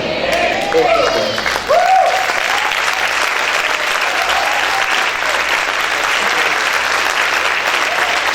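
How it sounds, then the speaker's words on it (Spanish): A church congregation applauds for the Lord Jesus with sustained, dense clapping from many hands, loud and steady throughout, while a voice briefly speaks over the start. "Ese aplauso es para el Señor Jesús."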